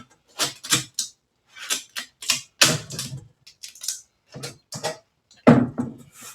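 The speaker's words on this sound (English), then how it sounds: "So I take the tape, I lay it like this." Packing tape pulled and pressed onto a cardboard balikbayan box: a series of short, crisp ripping and rubbing bursts separated by brief pauses, close and fairly loud, with no talking.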